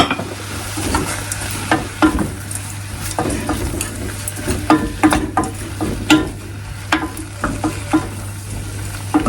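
Garlic frying in a pan with salt and pepper, a steady sizzle beneath repeated scrapes and stirring knocks of a utensil, close and moderately loud with no talking.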